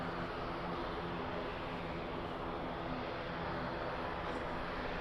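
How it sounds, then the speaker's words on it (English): A Loganair ATR turboprop airliner at Birmingham Airport makes a steady, dense engine roar that holds even throughout, heard from a moderate distance with no break. "That Logan Air ATR."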